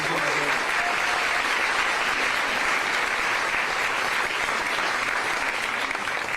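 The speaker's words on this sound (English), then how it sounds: "Give them a round of applause." Applause from an audience at a political event, steady dense clapping filling the whole stretch at even loudness, with no voices rising above it.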